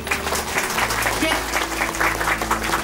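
Applause from a Japanese event audience, a steady broadband patter running throughout at moderate level, with a voice speaking over it briefly.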